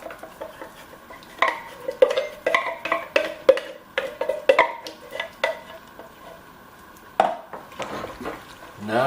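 Canned chili being mixed in a Dutch oven for campfire chili at a truck camper: a series of close, wet stirring scrapes and metal clinks in quick irregular strokes, then a pause and a few more scrapes.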